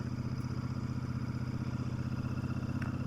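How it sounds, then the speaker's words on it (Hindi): A motorcycle climbs a mountain road in second gear, its engine putting out a steady, even, pulsing drone at moderate volume with no voices. "ये पहाड़ 2 नंबर गियर पे मैं बाइक चला रहा हूँ अभी"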